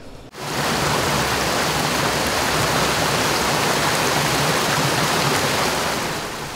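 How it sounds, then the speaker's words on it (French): Steady, dense rush of falling water at the Molières cascade, a broad continuous roar that holds evenly for several seconds with no voices. "Le site magnifique de la cascade des Molières vient d'être totalement réhabilité"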